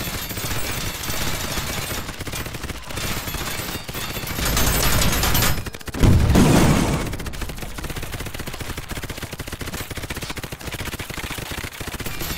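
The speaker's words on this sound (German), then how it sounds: "die kleinen Soldaten, die die ganze Zeit hier drauf schießen" Dense, continuous gunfire from soldiers in the VR shooter BeachHead 2020, rapid bursts running the whole time with a louder, heavier blast swelling midway before the steady crackle resumes.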